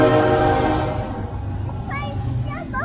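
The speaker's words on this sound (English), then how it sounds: "Here comes train number four." A train passes through the small town of Belle Plaine, Iowa, a loud steady low rumble with harmonic horn-like tones that fade after a second, then brief warbling tones rise over the continuing rumble.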